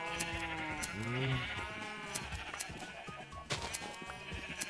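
Sheep in the Minecraft video game bleat repeatedly while being sheared, with sharp snipping clicks scattered between the calls at close range.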